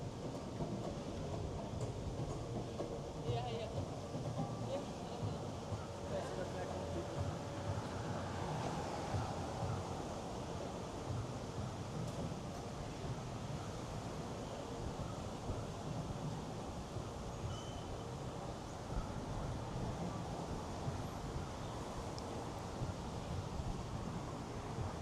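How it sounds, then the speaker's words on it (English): Steady, loud wind gusting through downtown Miami at night near the valet entrance of the Aston Martin Residences, a continuous broadband rush with no clear breaks, and no one talking. "It's pretty windy tonight."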